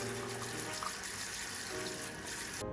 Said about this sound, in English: Next, I'm going to rinse my almonds.